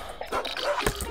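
Neighbours' dogs bark at night in a Malayalam comedy film scene, a few short, moderately faint barks over a quiet background.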